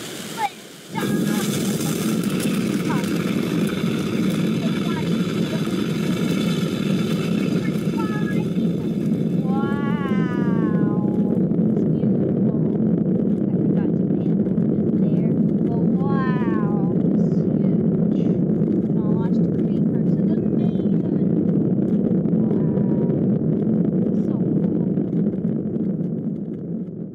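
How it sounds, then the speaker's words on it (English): A rocket engine roars in Minecraft Education Edition as the Artemis rocket carrying creeper cargo lifts off for the moon, a loud, steady, broad rumble that holds for the whole span, with brief tonal chirps and warbles over it early on. "Artemis lunar creeper is about to be launched to the moon. Start the engine"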